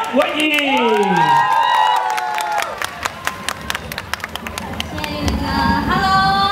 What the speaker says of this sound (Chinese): 麻烦各位大为掌声加欢呼声